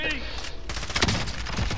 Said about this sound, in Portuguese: Estão atirando em mim.